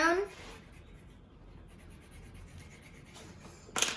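A marker scratches softly across paper while colouring in a drawing of a galactic dinosaur, with faint, close strokes and a brief sharper rustle at the very end.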